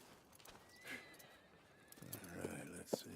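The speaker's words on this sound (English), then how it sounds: "And a fine new horse." A horse in the Red Dead Redemption 2 video game whinnies briefly at a stable, with faint clip-clop hooves and low background sounds following.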